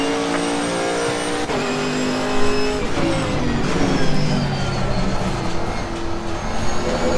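Camaro GT4 race car engine in Assetto Corsa Competizione at Bathurst, revving hard through gear changes with rising and falling harmonic whine, loud and continuous with faint tire noise.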